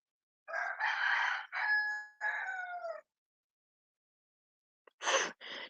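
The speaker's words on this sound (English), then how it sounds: "Goddamn chickens." A rooster crows a long multi-part cock-a-doodle-doo nearby, followed after a pause by a couple of short, sharp chicken squawks, with silence in between.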